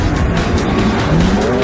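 Cars roar in a drag race scene from the 2007 film Redline, with loud, continuous engine noise, squealing tires and skidding over a short burst.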